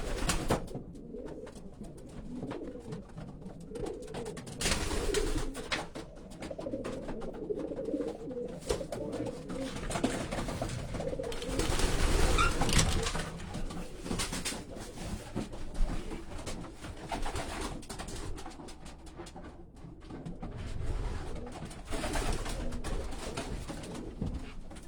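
Racing pigeons in a loft coo steadily throughout, a dense layer of overlapping soft calls from many birds close by, with rustling and shuffling underneath.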